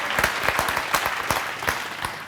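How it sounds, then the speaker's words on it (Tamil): A full hall applauds at the start of a birthday tribute concert for a singer, with close, distinct hand claps over a broad crowd patter. "ஒரு அரங்கம் நிறைந்த கைத்தட்டல் கொடுத்துடலாம்."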